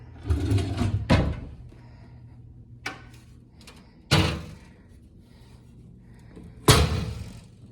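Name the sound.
drawer opening and closing in a house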